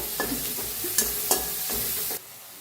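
Onion and tomato sizzle steadily in hot oil in a pan for a village-style cluster bean dish, with a few scraping stirs of a spoon breaking through the frying noise before it cuts off abruptly.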